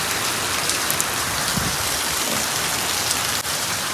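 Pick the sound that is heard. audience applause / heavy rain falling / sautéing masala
heavy rain falling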